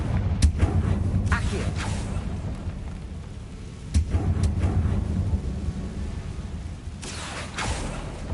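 Spell explosions in Hogwarts Legacy burst as several heavy booms, one early and two close together midway, each ringing out over a low, rumbling ambience.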